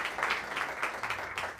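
An audience at an open mic energy event gives a round of applause, a moderate, even patter of clapping from a crowd at some distance.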